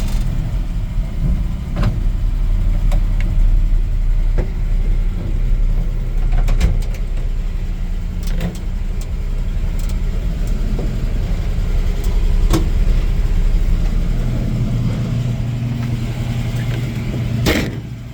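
A 1956 Chevy 3100 pickup truck being driven, its engine a steady loud drone throughout, with faint clunks of the gearshift and transmission as it is shifted back into first gear.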